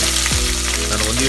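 Bay leaves frying in hot oil in a pan for mushroom pulao make a short, loud, even sizzle up close, with a low steady hum beneath and no talking.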